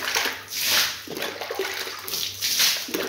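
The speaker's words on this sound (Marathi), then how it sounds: "आता टाकत आहे पाणी." Water is poured across the floor while a house is washed, a rushing splash that swells and fades in repeated waves, close and fairly loud.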